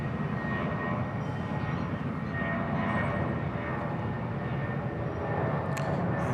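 An Airbus A380 at Bangkok Suvarnabhumi Airport produces a steady, broad jet-engine roar that stays fairly distant and even throughout, with no talk over it.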